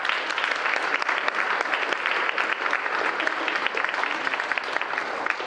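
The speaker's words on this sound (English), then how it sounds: "Let's give them a round of applause." A conference audience breaks into a round of applause, a dense, steady wash of many hands clapping at fairly close range that holds evenly throughout with no voices on top.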